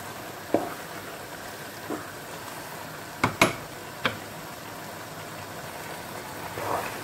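Eggplant stew simmers in oil in a pot with a faint, steady sizzle, broken by a few sharp clinks and scrapes of stirring.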